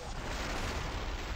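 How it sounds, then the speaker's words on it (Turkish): Explosion in the video game Killing Floor 2, a dense, rumbling burst that fills the whole short moment at fairly low level, with no talk over it. "Ne oldu o patlama neydi öyle?"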